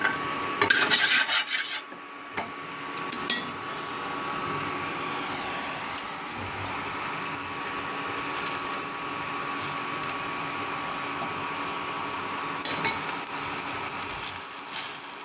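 A sattu-stuffed paratha fries in oil on a pan, a soft continuous sizzle broken by scattered clinks and scrapes of a utensil against the pan, sharper knocks near the start and again later.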